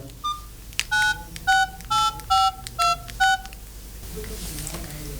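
A series of seven clear telephone keypad tones, evenly spaced short beeps dialing a number, with faint background noise.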